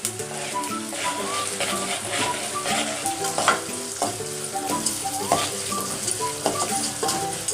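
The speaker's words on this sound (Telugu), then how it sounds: "ఇప్పుడు పెసరపప్పు 1/2 కప్పు. ఇది బాగా యాగాలి." Moong dal and mustard seeds roast in a pan with a steady sizzle, while a spoon scrapes and stirs the dry pan in a repeated rhythm. The sound is close and continuous and nobody talks.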